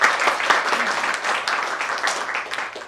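A seminar audience claps for a speaker with sustained, dense applause from many hands, even and fairly loud throughout.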